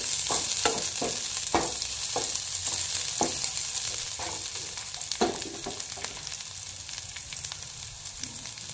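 Green chillies fry in hot oil, a steady close sizzle with repeated clicks and scrapes of stirring spread through it and no talk.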